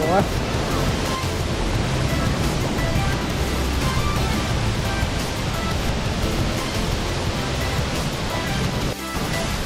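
The large Jet Kot Yai waterfall roars as a loud, unbroken wash of rushing water, heard from close up while standing in the middle of the falls.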